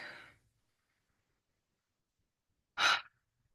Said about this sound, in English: you're just going to take a few deep breaths in through the nose